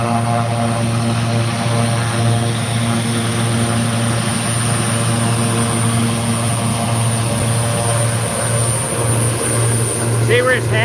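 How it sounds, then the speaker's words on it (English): A propeller tanker aircraft flies the airfield traffic pattern, its engines giving a loud, continuous droning hum with a steady tonal whine that holds throughout. "we got another tanker in the pattern over here"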